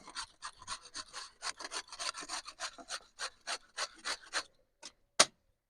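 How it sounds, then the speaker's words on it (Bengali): Carrots for carrot laddu are grated on a grater in a quick series of about twenty short, close rasping strokes, then a pause and a final sharp scrape. "গাজরটা আমি সব এই যে মেশিনে ঘষে নেবো এইভাবে"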